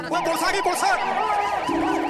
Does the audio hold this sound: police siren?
yes